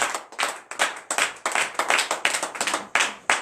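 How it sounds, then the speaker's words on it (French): A congregation at a morning prayer service claps loudly and steadily, with dense overlapping hand claps in uneven bursts throughout and no voices over them. "que je vous prie d'acclamer très très fort."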